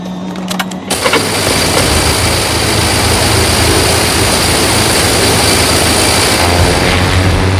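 A fixed-wing aircraft engine drones loud and steady while taxiing on a runway, a continuous broadband roar that starts abruptly after a brief opening and holds close and unbroken to the end.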